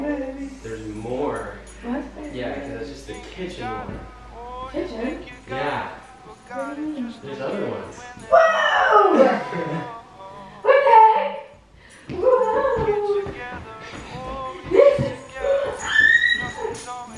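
A puppy whimpers, yips and gives small barks in excited bursts close by, while people talk and exclaim over it throughout.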